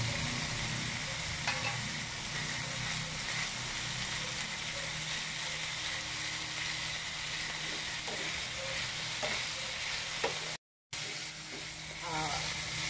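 Beef sizzles steadily in a pan over a slow fire as basil leaves go in, a constant frying hiss with occasional stirring scrapes, close and even throughout, with a brief dropout near the end.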